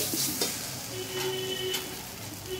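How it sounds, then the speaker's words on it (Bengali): Spice paste for a gourd and egg curry being stirred and fried in a pan, a steady close sizzle with soft scraping strokes from the spoon. "আমি এটাকে ভালো করে নেড়ে নেড়ে কষিয়ে নিয়েছি"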